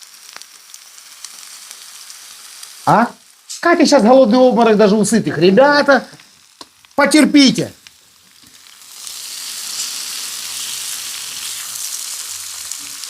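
Steady hissing sizzle of food frying in a pan, heard alone at the start and returning louder near the end, interrupted by a stretch of people talking.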